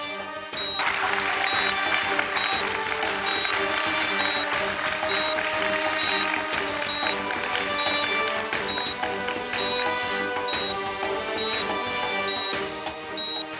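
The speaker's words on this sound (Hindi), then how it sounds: "हमारे सभी प्रतिभाशाली शिष्यों के लिए जोरदार तालियां।" On a stage, a crowd applauds talented dance students with loud, sustained clapping that fills the space for over ten seconds, a faint voice briefly audible beneath it.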